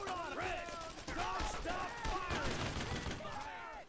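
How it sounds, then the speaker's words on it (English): Gunfire from Brothers in Arms: Road to Hill 30, a World War II shooter, crackling in repeated bursts of rifle and machine-gun fire amid battlefield noise, with shouted voices mixed through the din. "Fire on them, chaps."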